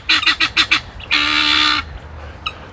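Guinea fowl calling nearby on a forest garden homestead, a loud burst of five quick rhythmic honking cries followed by one longer drawn-out harsh call, then a faint short note.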